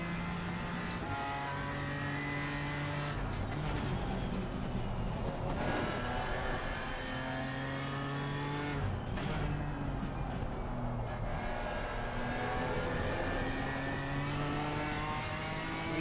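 The BMW M4 race car in Assetto Corsa Competizione revs through repeated upshifts and downshifts, its engine tone climbing and dropping in stepped sweeps over a steady roar, loud and close throughout.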